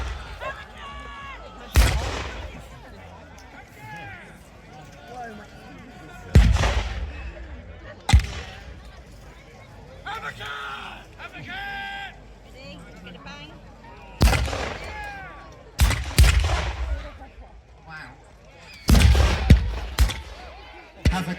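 Booming medieval handgun shots at a reenactment of the Battle of Tewkesbury, several sharp reports spaced irregularly over the scene, some close and loud, with someone talking throughout and crowd noise between the bangs.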